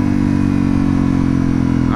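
A motorcycle engine runs steadily and loudly up close, a deep sustained drone with strong low harmonics throughout while riding, with no breaks or clear revving peaks.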